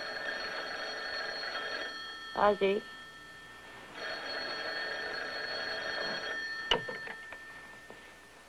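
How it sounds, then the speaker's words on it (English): A telephone rings in a home, with bell-like ringing across the clip alongside a brief spoken voice and some clicks. "answer the phone"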